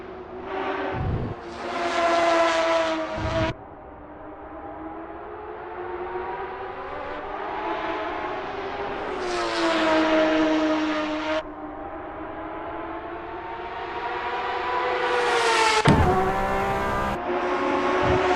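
A Porsche 911 RSR race car engine in a racing game revs hard and shifts up repeatedly on an out lap at Barcelona, rising tones broken by sharp gear changes, loud and close throughout with no talk.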